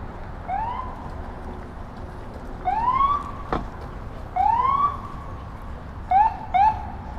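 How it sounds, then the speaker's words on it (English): An ambulance siren passes along the West Side Highway in Manhattan, giving repeated rising wails over steady traffic noise, with one sharp knock in the middle. "That's an ambulance."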